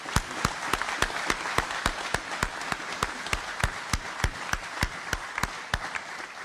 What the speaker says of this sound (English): So I hope that you'll join me in giving them all a big round of applause.